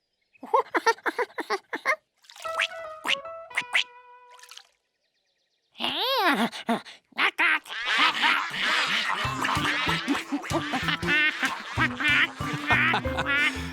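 Cartoon puddle ducks quack in quick nasal bursts, first sparse and then a dense, busy chorus of many ducks over a rushing backdrop.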